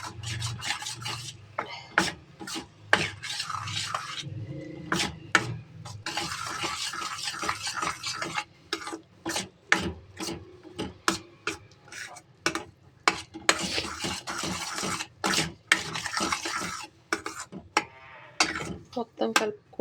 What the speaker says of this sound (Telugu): ఈ పాల పొడి బాగా మిక్స్ అయ్యేలాగా కలుపుకోవాలి